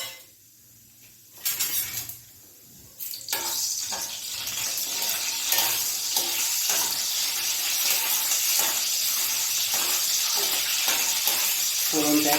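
Cumin seeds and bay leaves dropped into hot oil break into a loud, close, continuous hiss after a couple of quieter seconds, with faint sputtering crackles running throughout and no talk.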